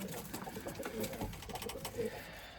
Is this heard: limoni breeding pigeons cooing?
yes